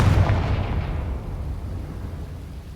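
A Confringo explosive spell in a video game goes off with a single heavy, close blast whose low rumbling boom decays over a couple of seconds.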